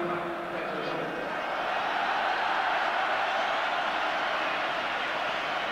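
A huge stadium crowd roars and cheers at the 1987 UEFA Cup Final first leg between Göteborg and Dundee United, a steady, distant wash of noise that swells slightly and holds throughout.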